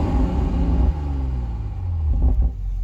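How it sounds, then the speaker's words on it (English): A 2020 BMW 840i Gran Coupe with M Sport package and a six-cylinder turbo engine revs while parked, its exhaust rumbling low and steady with pitch sweeps rising and falling over about three seconds. "let's do some rev time"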